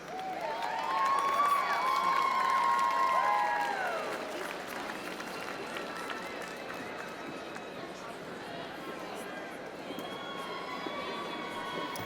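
A large commencement crowd at Drexel's 2019 College of Nursing and Health Professions ceremony applauds and cheers its graduates, a steady dense wash of clapping with a voice speaking over the opening seconds.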